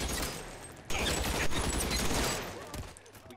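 A dense, crackling volley of gunfire in the VR game L.A. Noire: The VR Case Files, with many overlapping shots loud and close over about three seconds.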